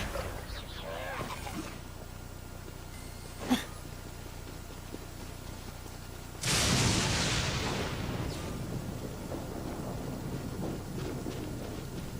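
A loud burst of thunder rumbles through a storm scene in the video game Genshin Impact, rising abruptly midway and rolling on under steady rain-like noise, with a sharp crack heard earlier.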